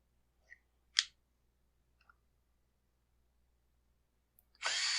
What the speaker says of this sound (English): Just like to blow the bulk of the dirt off of these parts before I put them back on a customer's saw.